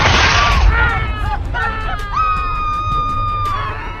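Several people scream in high, drawn-out wails, layered and loud, with a burst of noise at the start and sustained cries that rise and fall over a rumbling background.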